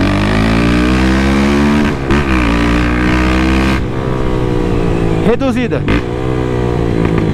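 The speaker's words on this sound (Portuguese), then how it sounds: "Pra testar esse escapizão aqui da Dory." A 2023 Honda CB300F Twister single-cylinder motorcycle with an aftermarket Dore exhaust idles and revs loudly up close, its deep throbbing note rising and falling with crackling pops, while someone talks over it.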